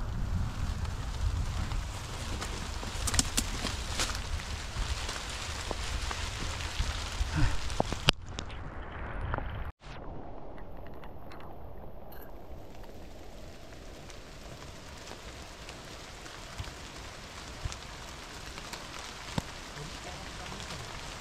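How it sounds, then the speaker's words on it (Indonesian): Steady rain pattering on the trail and gear during a hike on Mount Wilis, a dense broadband hiss throughout with people talking over it and a sharp break partway through. "Hujan, hujan."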